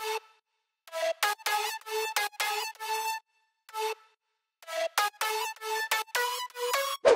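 Second lead synth layer from an aggressive future house track plays bright, choppy stabbed notes in a syncopated rhythm, with short gaps between phrases, clean and alone.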